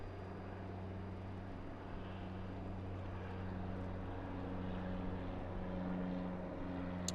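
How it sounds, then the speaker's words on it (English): A propeller plane at London Southend Airport, a low, steady droning hum with a slowly shifting engine tone, fairly distant and faint, continuous throughout without talk. "don't you just love propeller planes?"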